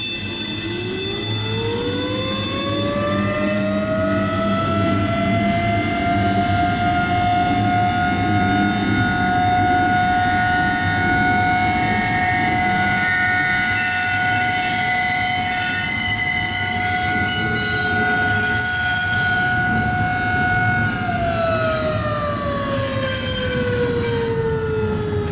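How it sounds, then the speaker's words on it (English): A tornado warning siren in downtown Deshler, Ohio winds up, holds a long steady wail, then winds down, heard loud and sustained over a constant low rumble. "has a single tornado siren located downtown which sounds off every day at noon"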